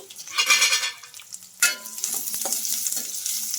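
Chopped onions frying toward golden with cumin, mustard seeds, green chili and curry leaves, a bright close sizzle broken by a loud stirring scrape partway through, then steady crackling and pan clinks.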